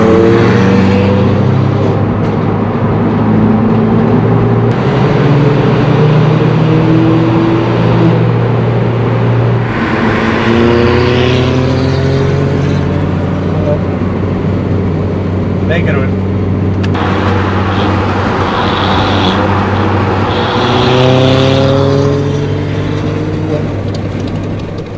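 A Ford Fiesta ST200 with a Milltek exhaust, tuned to 240 hp, drives past with a loud, sustained engine drone that rises and falls through several revving sweeps.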